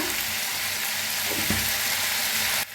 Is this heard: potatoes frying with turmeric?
yes